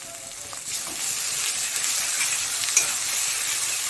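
Ginger and garlic paste fries in mustard oil in a pan for a Bengali koi fish curry, giving a steady close hiss and sizzle with light stirring scrapes throughout.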